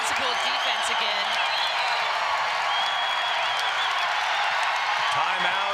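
A loud basketball arena crowd at a West Virginia vs. Colorado women's college game roars steadily throughout, a dense continuous wash of cheering with a commentator talking over it.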